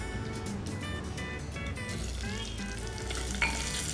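Onions sizzle in hot oil in a pan, a steady close frying hiss with some stirring clatter and a faint tonal hum in the background.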